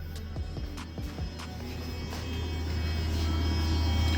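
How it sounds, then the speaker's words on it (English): A water pump on a VMP ice tank in a supercharged Coyote car hums at low pitch, starting quietly after a few clicks and gradually building to a steady drone. "there goes the pump. It takes a few seconds for it to get going."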